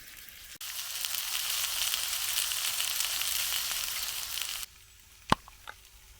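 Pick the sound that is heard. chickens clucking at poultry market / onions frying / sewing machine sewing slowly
onions frying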